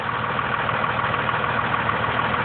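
A 2001 Dodge 2500 pickup's 5.9 Cummins turbo diesel idles steadily up close, a constant low rumble with an even mechanical rattle and no voices over it.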